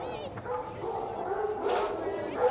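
Hunting hounds at an Irish fox-hunt pack show bark and yip in short bursts, mixed with whimpers, under steady crowd chatter and nearby talking voices.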